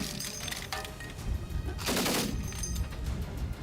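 Soldiers fire guns during training, a few sharp cracks and a longer burst of rapid gunfire at moderate distance with no talk over it.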